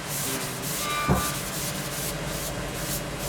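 Sandpaper rubs steadily across a willow cricket bat, a continuous close scratchy hiss that stays even for a few seconds, with one small knock near the start.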